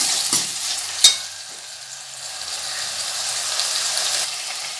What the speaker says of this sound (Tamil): இப்போ இஞ்சி பூண்டு பேஸ்ட்டை சேர்த்துடலாம். இப்போ இதையே நம்ம ஒரு நிமிஷம் வதக்கிக்கலாம்.